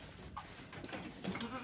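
Goats on a farm bleating in short, faint calls at a distance, several overlapping cries against steady outdoor background noise.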